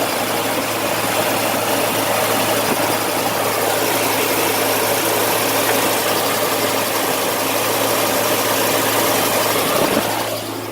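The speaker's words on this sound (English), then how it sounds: "Look how smooth this engine runs." A Mazda RX-7 FC rotary engine idles smoothly and steadily at close range, holding a constant drone for about ten seconds with no talking.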